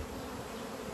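Honey bees swarm around a beehive at midday, their dense, steady buzz filling the air continuously and close by with no pauses.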